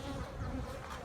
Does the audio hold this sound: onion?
no